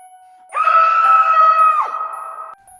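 A man screams loudly in terror, one sustained wailing cry of about two seconds that starts abruptly, then wavers and drops in pitch before cutting off, heard alone with no talk.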